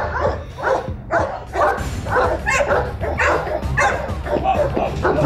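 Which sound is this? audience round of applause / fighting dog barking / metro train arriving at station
fighting dog barking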